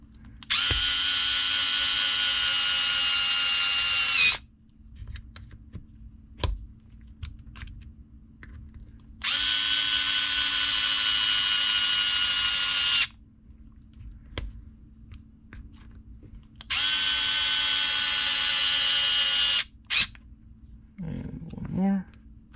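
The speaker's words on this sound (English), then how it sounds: "let me get my screwdriver here." Three long bursts of a power screwdriver whirring as it drives screws into an ARRMA Kraton V5 6S RC car differential, each burst about four seconds, separated by quiet pauses with small clicks and handling noises.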